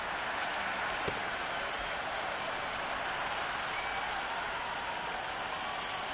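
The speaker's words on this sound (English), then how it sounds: "It's the most enthusiastic crowd you could ever see right now. There's a buzz, a real buzz coming from the stands." Stadium crowd at a cricket match keeps up a steady, dense roar of cheering and applause from the stands, an even wash of noise that holds for several seconds with no single voice standing out.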